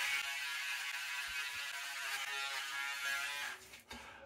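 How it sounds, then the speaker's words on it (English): A Braun Series 5 wet/dry electric shaver buzzes steadily up close, a continuous whirring hum that dips and stutters briefly near the end, with no talking. "The Braun Series 5 is a wet dry shaver, so you can use it in the shower"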